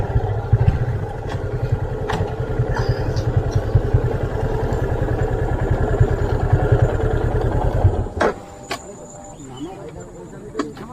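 A motorcycle engine idles close by with a steady low throb after a long ride, arriving at Gangani, Midnapore, West Bengal, then cuts off, leaving quiet clicks and rustling.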